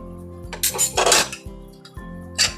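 A spoon scraping and knocking against a metal pot while dal khichdi is stirred, with several close clinks and scrapes in irregular bursts over a low steady hum.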